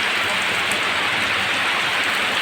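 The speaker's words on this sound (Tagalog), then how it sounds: "malakas ang ulan" Heavy rain in Pili, Albay, pouring as a dense, steady hiss with no pauses, close and loud throughout.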